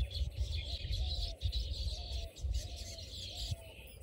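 Baya weaver birds chirp in a busy, quarrelsome chorus of high, rapid twittering, moderately close and continuous over a low background rumble, with no talking.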